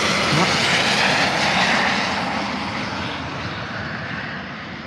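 A small private Cessna Citation jet coming in to land at Manchester Airport gives a loud, sustained engine roar that is strongest at first and then slowly fades as it passes, with no voices.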